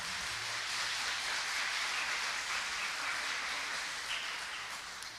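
Audience applause for contestants at a school quiz show final, a steady, dense wash of clapping that holds for several seconds before easing slightly at the end.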